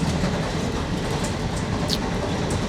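Passenger train on the Overland between Melbourne and Adelaide, heard from a red standard cabin: a constant rumbling rattle with shakes and bumps, plus light clicks of the wheels on the track.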